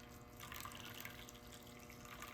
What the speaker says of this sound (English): I'm just going to pour the hot water in the ice tray